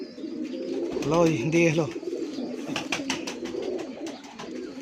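Pigeons coo close by in a series of rolling, bubbling calls, heard under someone speaking in a casual voice, with faint clicks and shuffling around the birds.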